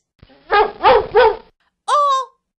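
A dog gives three quick, loud barks in a close rhythmic burst, then one more bark after a short pause, against silence.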